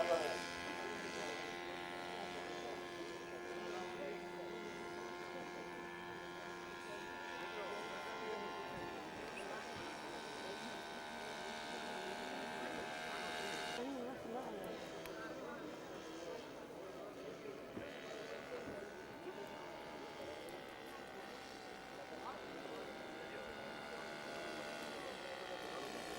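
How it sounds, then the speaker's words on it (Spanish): An early airplane from around 1910 takes off slowly, its small engine giving a faint, continuous buzzing drone with a steady pitch throughout, under someone narrating. "Ahí lo tenemos despegando con ese vuelo lento que caracteriza este tipo de aviones."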